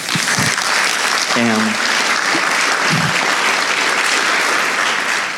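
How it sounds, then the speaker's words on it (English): Audience at a kernel development conference talk gives a round of applause for the speaker, steady and full throughout, with a brief spoken word near the start. "So one more round of applause."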